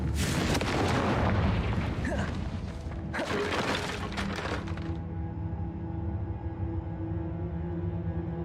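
A Confringo fire spell in the Hogwarts Legacy video game bursts with booming, crackling blasts over the first five seconds, then fades into a lingering tonal hum and game ambience.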